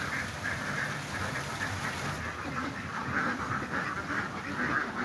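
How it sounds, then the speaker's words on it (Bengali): Several ducks of various breeds, including Blue Swedish, quack in a busy pond enclosure, a steady mass of overlapping calls continuing throughout with no talk. "অনেকগুলা জাতের হাঁস আছে এখানে"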